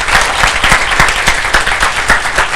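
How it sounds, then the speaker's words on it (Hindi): A motivational seminar audience claps hard and continuously, with dense, loud applause throughout and no break. "जितना जम के ताली बजाना है बजाओ"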